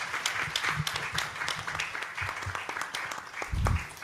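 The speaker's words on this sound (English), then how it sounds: "please join me in giving a big round of applause to our exciting panelists" A conference audience applauds the panelists at the close of a session on innovation for Sri Lanka's economic transformation, moderate clapping of a smallish crowd, fairly steady with a few thumps near the end.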